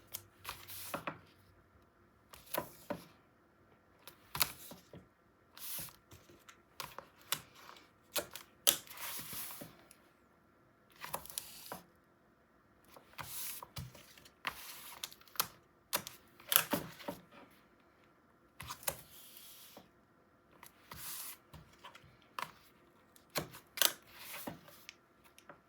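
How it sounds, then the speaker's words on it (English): Strips of wide tape are pulled and pressed onto a 9 x 9 Ciao Bella Celestial mini album, giving a string of close, crisp ripping and tapping bursts separated by short quiet gaps, with no talking. "Let's get the big tape out and get it in the album"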